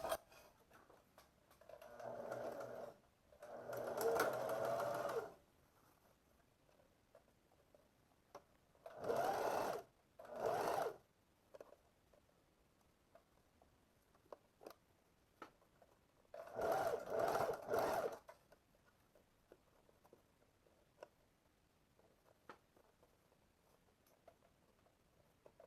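Sewing machine running a 1 cm seam on pleated shorts, several separate bursts of fast needle whirring, some brief and some longer, with quiet gaps and small handling clicks between them.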